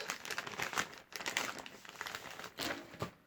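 A small plastic bag crinkles in soft, irregular bursts as a store-bought package is unpacked up close, quiet rustles with brief pauses and no talking.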